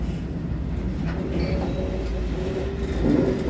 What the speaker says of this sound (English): Continuation of that southbound loaded coal drag.